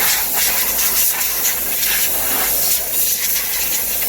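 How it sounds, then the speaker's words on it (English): A compressed air blower blasts water off a D4D turbo diesel Toyota Hiace engine bay, a loud, close, continuous hiss with slight surging through its length. "last thing you want to do is take the compressed air blower,"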